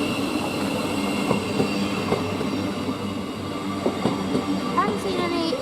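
A train rolls slowly into West Hampstead Thameslink station on the Midland Main Line, a steady rumble with rhythmic wheel clicks and occasional faint squeals, heard from the platform with no talking.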